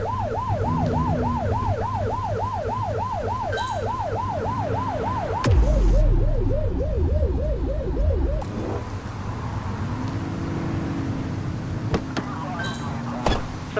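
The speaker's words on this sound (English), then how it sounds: "Get on their tail and flip the siren." A police car siren wails in The Precinct, first a fast repeating yelp, then a quicker warble, then a slow wail, loud and close over a revving car engine, with brief radio-style voices mixed in.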